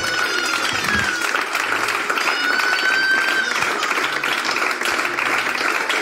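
Loud, sustained applause from a large church congregation indoors, with cheering voices and shouts mixed into the clapping.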